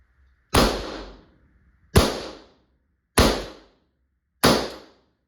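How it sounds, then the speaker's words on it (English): Four dry fires from a Valken M17 less-lethal marker, each a sharp close pop with a quick decaying tail, spaced about a second and a quarter apart. "Take it off of safety, point it in a safe direction, and just fire a couple of dry fires."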